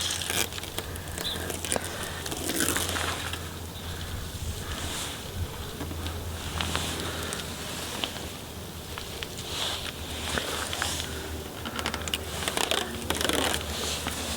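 Knifeless tape being lifted and peeled away from a car body, giving a steady crackling, rustling tear that runs throughout with a few sharper bursts, close and fairly loud with no talking.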